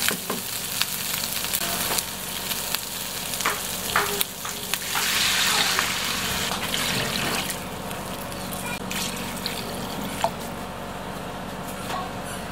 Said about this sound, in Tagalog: So maglalagay na po tayo ng tubig.